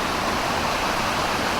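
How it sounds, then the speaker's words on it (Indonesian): Steady, broadband roar of the Gunung Naga waterfall on Mount Ratai, a dense continuous rush of falling water heard up close with no voices. "kita di air terjun Gunung Naga"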